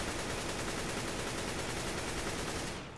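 An AK-47 sprayed on full auto in Counter-Strike: Global Offensive, a dense unbroken stream of rapid shots for nearly three seconds that cuts off abruptly at the end.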